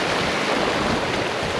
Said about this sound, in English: once in a while we'll get some big waves crashing through here